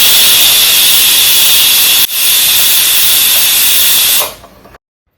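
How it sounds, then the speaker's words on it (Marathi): A pressure cooker in a home kitchen vents steam after several whistles on low gas, a loud steady hiss that breaks off briefly midway, then resumes and fades out. "छान 3-4 शिट्ट्या काढून घेतल्या मी कुकरची वाफसुद्धा निघाली होती"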